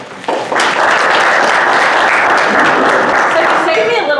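An audience at a workforce hiring talk applauds to welcome a speaker named Kelly. The clapping swells quickly after a brief voice, then stays loud, dense and sustained before easing slightly at the end.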